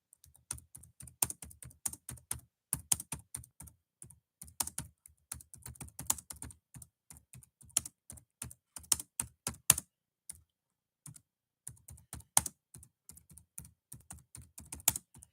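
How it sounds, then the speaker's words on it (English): Computer keyboard typing clicks away steadily in quick irregular bursts, close and crisp, with a short pause midway before the tapping resumes. "I'm typing this out"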